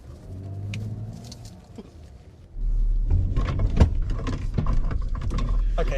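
A Mazda CX-90 SUV launches off the line in a drag race; after a quiet start the engine surges loudly and stays roaring and revving under strong acceleration, with faint background noise before the launch.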